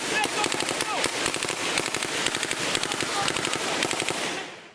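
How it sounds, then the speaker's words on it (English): Small arms fire rattles in rapid, dense bursts during a Taliban ambush on American soldiers in the Korangal Valley, loud and continuous with overlapping shots and shouted voices throughout. "the Taliban begins an ambush with small arms fire and rocket-propelled grenades"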